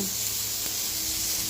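Dosa batter sizzles on a hot pan, a steady bright hiss with faint crackle throughout, close and uninterrupted.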